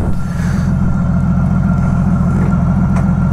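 A 1999 Honda Valkyrie F6C motorcycle engine running, a loud, close, steady low rumble with a smooth throbbing pulse and no talking.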